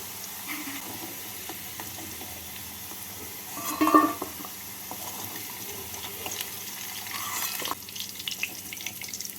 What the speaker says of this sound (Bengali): আলুগুলোকে লাল করে ভেজে নিলাম